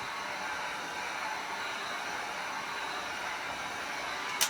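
A heat gun warms a vinyl graphics wrap on a boat, giving off a steady blowing hiss at moderate volume, with a small click near the end.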